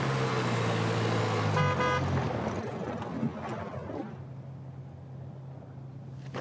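A Ford Bronco drives off, its engine noise loud and rumbling over the first couple of seconds with a brief horn-like tone, then fading into a steady low hum as it pulls away.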